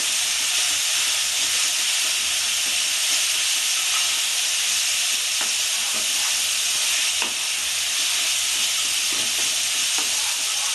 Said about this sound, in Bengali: পেঁয়াজ বাটাটাও আমি দিয়ে দিলাম মশলাটা আমি খুব ভালো করে কষবো